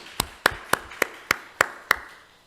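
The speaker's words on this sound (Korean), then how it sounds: "박수하겠습니다." A church congregation at a Sunday worship service claps in unison: seven sharp, evenly spaced claps in a steady rhythm that fade slightly at the end, with no talk over them.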